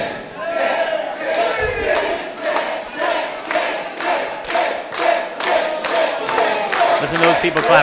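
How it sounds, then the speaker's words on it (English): Crowd at an independent pro wrestling show clapping in a steady rhythmic beat about twice a second, with cheers and shouting layered over the claps, loud and close throughout. "Listen to those people clapping for Dick, Johnny Chase."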